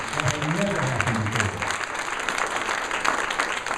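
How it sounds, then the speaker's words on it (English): Audience applause at an honors event for an activist group: a dense, steady wash of clapping that fills the whole stretch at an even level, with crowd voices mixed in. "give yourselves a major round of applause for that"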